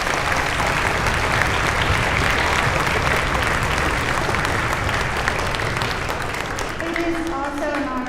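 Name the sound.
applause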